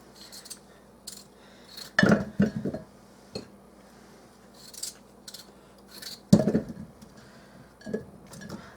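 Potatoes chopped into chunks on a cutting board for a crock pot pork loin roast, knife strikes landing in two short clustered bursts of sharp clicks and taps, close and fairly clear against a quiet kitchen background.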